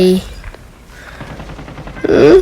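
AS VAL rifle gunfire in Call of Duty, a brief loud game burst at the start and again at the end with quieter game sounds in between.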